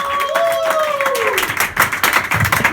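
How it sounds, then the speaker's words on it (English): A comedy show audience claps and cheers, a mixed burst of applause that starts under a spoken voice and swells into crisp, nearby clapping. "Another round of applause for this guy."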